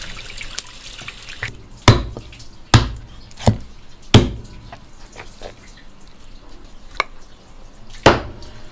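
A cleaver chops pork ribs into large chunks, with a handful of sharp, loud, irregularly spaced thwacks over quieter background clatter and water-like noise.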